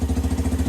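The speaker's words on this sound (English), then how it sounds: "It's only idling on the choke, which is not good." Lexmoto Street motorcycle engine idling on choke, a close, steady low putter with an even pulsing rhythm.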